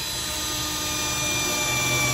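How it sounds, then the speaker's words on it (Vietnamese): A HUKAN 533 cordless drill driving screws into corrugated metal roofing, giving a steady, continuous high motor whine that holds without pause and stays close. "Thế em sẽ test thử con 533 trên vít bắn tôn anh em nhé."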